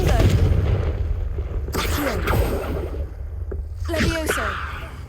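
A Confringo blasting spell is cast in Hogwarts Legacy on PS5, giving a couple of sharp bursts with booming low rumble over busy game ambience, and a voice shouts briefly.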